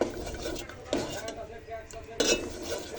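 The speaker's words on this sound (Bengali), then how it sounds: "আমার এইভাবে আস্তে আস্তে নাড়তেই হবে, অনেকক্ষণ নাড়তে হবে" A spoon scraping and clinking in a pan while stirring a flour and black pepper mixture cooked in soybean oil for white sauce, slow irregular scrapes with a few louder knocks against the metal.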